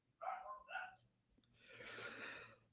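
A dog barks a few times in the background, a couple of short yaps close together, followed by a softer muffled rustle or breathy noise, all fairly faint in a quiet room.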